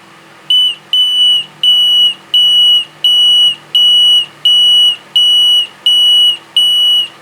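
A homemade railway crossing alarm buzzer sounds in ten evenly spaced, loud, shrill electronic beeps, each about half a second long with short gaps, close by and alone with no talk.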